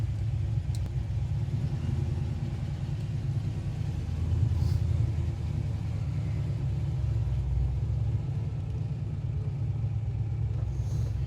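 A 1969 Chevrolet Camaro Z28 with its 302 V8 being driven while warming up, a steady low engine rumble and road noise from inside the car, even and continuous without hard revving.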